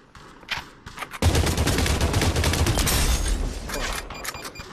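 Heavy bursts of gunfire erupt in the VR shooter Population One, a few scattered shots first, then a loud, sustained volley of rapid rounds rattling on with booming low end, no one talking.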